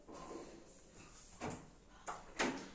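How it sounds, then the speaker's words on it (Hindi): A door swings shut indoors in a home kitchen, a few soft thuds and knocks with a sharper final clunk, fairly quiet and close with no talking. "दरवाज़ा बंद करो।"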